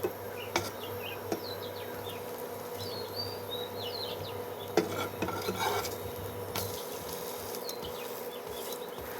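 Bread dipped in egg frying in a pan over medium heat gives a soft, steady sizzle, with occasional light utensil clicks and scrapes; no one speaks.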